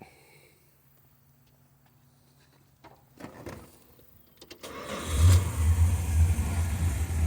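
A 1968 Chrysler Newport convertible engine cranks and catches, then settles into a steady rumbling idle through dual exhaust after a quiet stretch with a few clicks and rustles.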